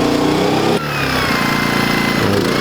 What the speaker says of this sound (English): the generator is sufficient for the welder and no overload.